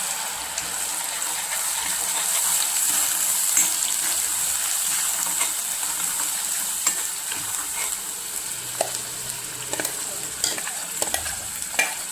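Masala spice paste hits hot oil for Kolhapuri chicken and sizzles in a steady, bright hiss, with occasional stirring scrapes and small pops, close and continuous with no talking.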